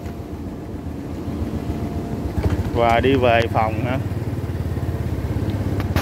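A Honda motorcycle engine runs with a steady low rumble throughout, growing slightly louder partway through, while someone talks over it.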